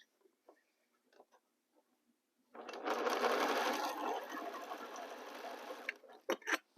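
A sewing machine runs in one steady, loud stitching burst of about three and a half seconds after a few quiet ticks, then stops with light clicks.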